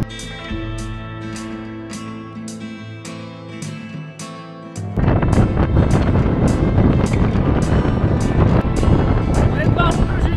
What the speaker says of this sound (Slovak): strašne fúka